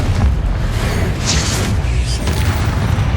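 A Confringo fire spell explodes in the Hogwarts Legacy video game. A dense, loud, rumbling blast of noise fills the whole stretch without a break, with crackling debris on top.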